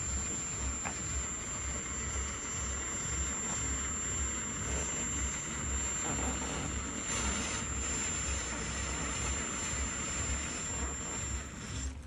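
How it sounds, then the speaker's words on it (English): Rubber eraser wheel on a power tool working off emblem adhesive on a 2022 Corvette C8, a steady whirring drone with a constant high whine, running continuously at close range without talk. "I've been removing it with the rubber wheel here."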